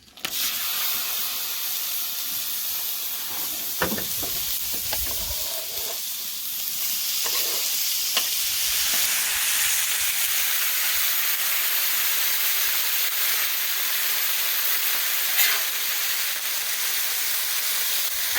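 Bacon and ground beef fry on a hot Blackstone griddle, a continuous loud sizzle and hiss with a few scraping, shifting sounds early on, the spitting fat swelling louder and staying steady.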